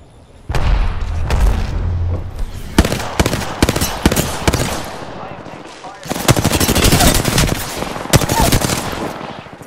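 In an Apex Legends match on Olympus, a frag grenade detonates with a heavy boom, followed by sharp bursts of rapid gunfire and further blasts that come loud and close. There is no clear talk.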